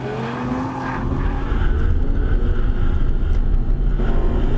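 A 2014 Audi R8 V10 Plus coupe with 550 horsepower driving on a race track, its engine roaring loud and close, rising in pitch and holding a sustained high-revving drone.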